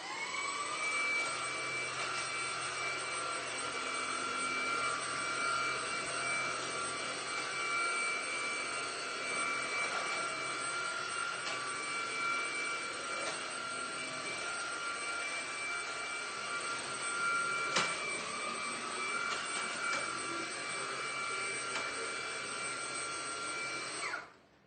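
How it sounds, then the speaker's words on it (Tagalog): A vacuum cleaner runs across a floor with a steady, loud, whining roar that holds level for over twenty seconds before cutting off abruptly at the end. "i-vacuum ang sahin para"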